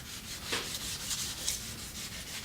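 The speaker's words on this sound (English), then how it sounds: "I dip the water on there, and I start sanding" Rhythmic, close-up wet sanding strokes on a Peavey Reactor guitar body, a steady back-and-forth rubbing hiss with no talking.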